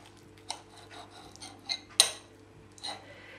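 A knife cuts through cooked stuffed cabbage rolls filled with rice and meat, giving sparse light clinks and scrapes of metal on a plate, with a few sharper taps spaced apart against a quiet background.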